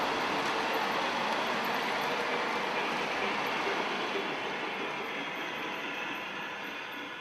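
A Lionel model train, the Daylight 4436, runs steadily along its track with a continuous rolling rumble and faint clatter, holding level before easing slightly quieter toward the end.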